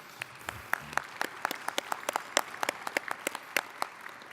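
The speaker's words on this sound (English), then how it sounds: "let's have a round of applause for the British government" Sparse, uneven clapping from a small ceremony audience at a Sir John A. Macdonald celebration, a few hands at a time with distinct slaps spread across the clip and no voices over it.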